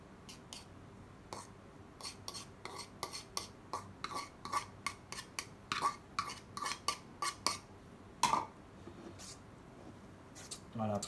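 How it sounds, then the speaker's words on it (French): Utensils stirred and tossed through a Mediterranean pasta salad with sun-dried tomatoes in a bowl, a series of sharp clinks and scrapes in an irregular rhythm, quiet and close, with a voice talking between them. "on remue bien à chaque fois, on mélange bien le tout"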